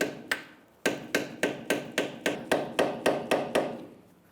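A hammer strikes a flathead screwdriver about a dozen times in a quick steady rhythm, knocking out the staking on the axle nut of a 2003-2011 Honda Element during a CV axle replacement. The metallic blows are close and sharp, with no talking.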